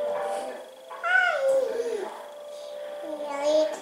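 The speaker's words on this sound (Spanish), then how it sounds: "Aquí tengo el gato." A domestic cat meows several times with rising and falling calls, close to the microphone indoors, with faint household background.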